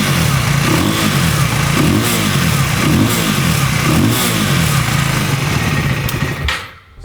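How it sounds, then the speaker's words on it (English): A KTM 390 Duke single-cylinder motorcycle engine revs loudly and close up in repeated throttle blips, the pitch rising and falling rhythmically before cutting off abruptly near the end. "Now if I start the bike, so you see the ignition works, and if I rev it,"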